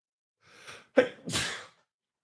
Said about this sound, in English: I can't even say it without sneezing.